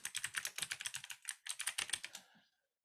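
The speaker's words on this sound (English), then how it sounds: "Okay, I will type my club name, for example." Fingers type a name on a computer keyboard in a quick run of close, crisp key clicks with a brief pause midway, then the tapping trails off into silence.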